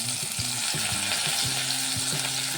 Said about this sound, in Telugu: ఇట్లా ఇది ఫ్రై చేద్దామండి. ఇది వేడైందండి, మనము అన్నీ ఇందులో వేసుకున్నామండి.